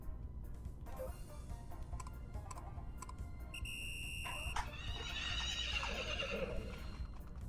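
A horse whinnies in the farming video game Story of Seasons: Friends of Mineral Town, a bright stylized neigh rising mid-clip over soft game tones and chimes.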